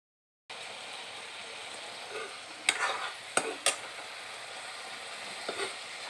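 Rice dough fries in a pan until its water dries off, giving a steady soft sizzle with a few sharp scraping strokes of stirring breaking through.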